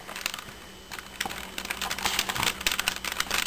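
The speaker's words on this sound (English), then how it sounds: "Are you typing?" Someone types quickly on a computer keyboard, a dense patter of light key clicks from close by, uneven and continuous for a few seconds, with no voices.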